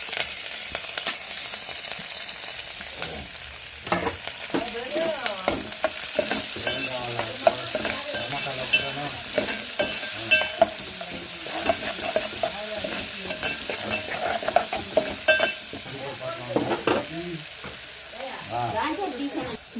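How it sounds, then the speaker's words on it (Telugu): Finely chopped onion and curry leaves frying in a pan on a hot coil stove, a steady crackling sizzle with frequent stirring scrapes and brief faint voices in the background. "కాయిల్ హీట్ ఎక్కినాక సన్నగా తరిగిన ఉల్లిపాయ ముక్కలు కరేపాకు వేస్తున్నాను"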